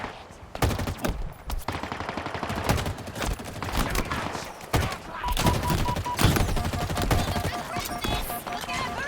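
Sustained machine gun fire from a video game, dense rapid bursts with sharp cracks throughout, close and loud, with a voice speaking at moments beneath it.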